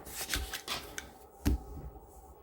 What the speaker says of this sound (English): 3 shuffles, and I'll take the 10 cards on top.